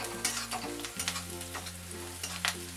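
Onion and local garlic roast and sizzle in a pan, making a steady, close frying hiss broken by soft stirring scrapes, over a low electrical hum, with no speech.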